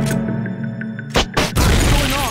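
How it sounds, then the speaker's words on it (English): Explosions in the stealth action game Metal Gear Solid Peace Walker: two short, loud bursts over a steady game soundscape, followed by sustained crackling rumble. "An explosion!"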